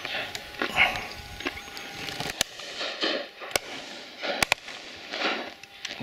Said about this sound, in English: One shot there.